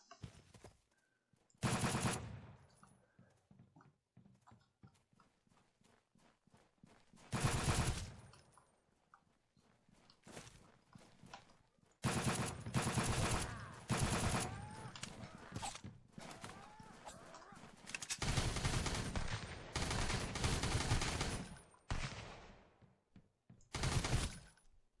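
Gunfire in the survival game Sunkenland: loud bursts of automatic fire come in clusters, several long sustained volleys separated by quieter stretches of faint clicks and movement, with no talk.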